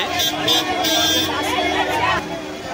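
Dense crowd hubbub fills the Bhaucha Dhakka wholesale fish market in Mumbai, many overlapping voices chattering close by at a constant, busy level throughout.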